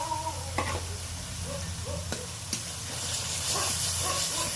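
Spice paste with ginger and a little hot water is stirred in a pan for a fish and eggplant curry, a steady hiss of frying under a few scraping strokes of a spoon.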